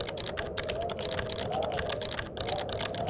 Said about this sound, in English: I woke up to the sound of keyboard